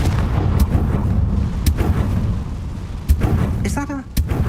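Confringo fire spells blasting in the Hogwarts Legacy video game: several loud, booming bursts spaced a second or so apart over a rumbling background, with a voice calling out between them.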